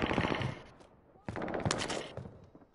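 Bursts of gunfire in a Call of Duty match, dense rapid shots opening the clip, a brief lull, then renewed volleys, fairly quiet and mixed with faint voices.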